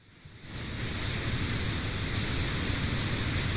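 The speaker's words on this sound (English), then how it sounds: "So we can hear some pink noise in here" Steady pink noise played through a binaural audio object fades in over the first half second, then holds as a loud, constant broadband hiss with no other sounds.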